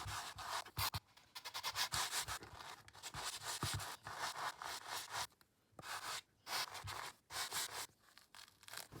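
A brush is drawn through a synthetic fur doll wig in quick repeated strokes, a soft close scratchy rubbing with brief pauses between passes.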